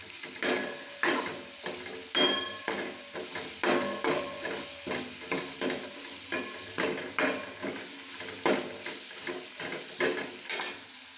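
Food roasting in a pan in a village kitchen, with repeated close scraping stir strokes over a steady, soft sizzle and no voices.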